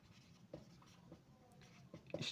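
Chalk or marker scratches against a board during a Bengali-language SSC biology lecture, coming as a few short, soft strokes at an even pace with a slightly louder scrawl at the end, and no talking.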